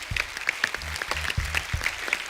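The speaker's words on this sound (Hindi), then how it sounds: "सो एक बार जोरदार तालियां हो जाएं फिल्म थप्पड़ की पूरी टीम के लिए" Studio audience applause for the Thappad film team on The Kapil Sharma Show: a dense burst of clapping from a crowd, steady and fairly loud for a couple of seconds, with no talk over it.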